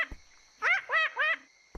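A voice imitates a frog croaking, giving three short, nasal, rising croaks in a row, close and clear against near silence.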